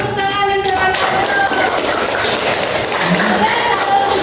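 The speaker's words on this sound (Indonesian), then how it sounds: "beri tepuk tangan yang terbaik" A crowd claps and applauds steadily throughout, a dense wash of hand claps with some faint tonal sounds mixed underneath.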